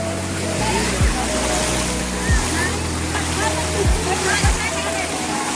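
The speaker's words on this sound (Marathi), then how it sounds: "पाण्याचा फ्लो एवढा जोरात आवाज थोडा जोरात येतं" Loud, continuous rush of fast-flowing water at a waterfall near Igatpuri, Nashik district, with a low engine-like drone and occasional sliding tones underneath.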